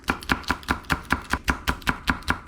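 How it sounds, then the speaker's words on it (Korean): Half a medium onion being sliced into thin strips with a knife on a cutting board, a steady, even run of about a dozen crisp close chops with no talking. "양파는 이거 중간 정도 되는 거 반 개입니다. 이렇게 채 썰어 주세요."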